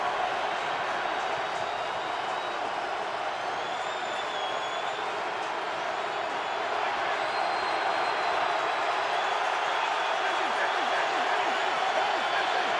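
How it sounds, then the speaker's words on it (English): A packed stadium crowd roars continuously at an NFL game between the Ravens and Steelers in 2012, a broad, loud, sustained wash of noise that never lets up, with faint announcer talk beneath. "Crowd in full throat."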